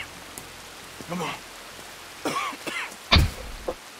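Rain falls in Red Dead Redemption 2 as a steady hiss, with a couple of breathy voice bursts, a brief spoken line and a heavy thump partway through.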